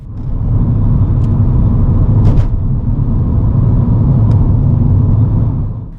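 A car accelerating during a driving lesson, engine rumbling loud and close inside the cabin, steady throughout with a few faint clicks on top, fading slightly at the end.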